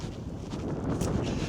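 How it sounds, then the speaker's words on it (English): Steady, icy wind roars across an exposed mountain summit, buffeting the microphone with a constant low rumble and gusty rustle, loud and close. "it's a bit icy up here with the wind"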